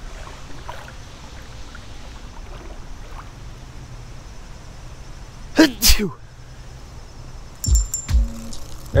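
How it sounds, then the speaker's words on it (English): One sharp sneeze bursts out over a quiet outdoor background, followed shortly by a brief rustling clatter. "That was a lucky sneeze, actually."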